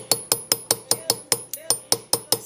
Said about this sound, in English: I'm just moving and hammering